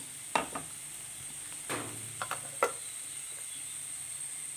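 Crushed ginger and garlic fry in a pan while a spoon stirs, giving a few sharp scraping clicks over a faint steady sizzle, close and fairly quiet, with no talk.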